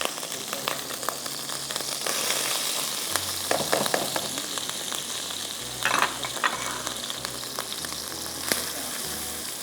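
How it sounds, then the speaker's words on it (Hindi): Sizzling and crackling from a frying pan cooking grated beetroot and potato, a steady dense fry with occasional stirring clatter, close and moderately loud without talk. "थोड़ा सा हम इसको फ्राई करेंगे"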